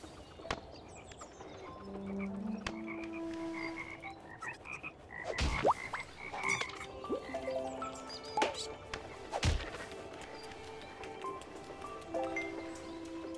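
Scattered frog croaks from Toki Tori 2 mixed with other game noises, coming in irregular bursts with short pauses, with sharp clicks and pops mixed in and no talking.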